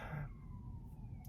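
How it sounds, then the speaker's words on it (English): Ambulance siren passing in the distance, a faint, sliding wail that drifts downward in pitch over a low rumbling street background, with no talking. "I hear like a lot of sirens in the background and it's very distracting"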